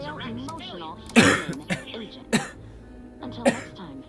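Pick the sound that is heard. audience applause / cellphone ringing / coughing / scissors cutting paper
coughing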